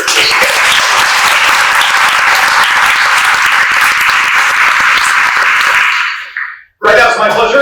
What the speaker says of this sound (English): Please join me in giving a round of applause to all the state employees who are here this day.